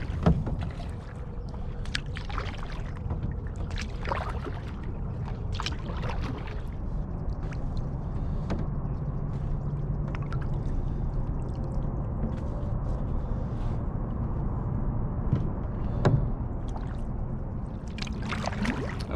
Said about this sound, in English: So I'm paddling that way.